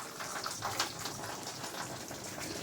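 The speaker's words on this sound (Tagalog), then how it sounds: "tuloy-tuloy pa rin yung ulan" Steady rain falling on a small backyard farm, a dense continuous patter with a few sharper drops, close and even throughout.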